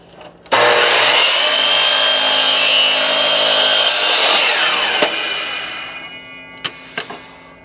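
Barnwood trim pieces for a frame are cut with a power saw, a loud sustained whine and rasp of blade through wood that runs several seconds, then spins down, followed by a few faint clicks.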